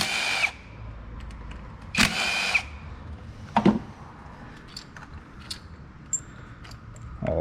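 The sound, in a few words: 10 mm socket removing coil pack bolts, Chevy Equinox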